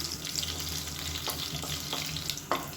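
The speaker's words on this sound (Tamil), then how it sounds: "இது எல்லாமே பொரியட்டும்" Cinnamon, clove and cardamom crackle in hot oil, a soft, even sizzle with small scattered pops, fairly quiet and steady throughout.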